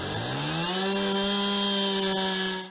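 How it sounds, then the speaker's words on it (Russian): A chainsaw cuts ice on the frozen Jacobi Bay: the engine is loud and close, rises in pitch, then holds a steady, buzzing whine before easing off at the end. "Режут, рубят, пилят лед уже со 2 января на заливе Якоби."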